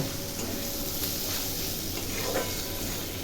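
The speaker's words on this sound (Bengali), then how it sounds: "এটাকে ভালো করে নাড়াচাড়া করে একটু জল ঢেলে দেবো" A pan of spices, coriander powder and tomato being stirred gives a continuous soft sizzle and hiss, with faint scraping throughout and no talk.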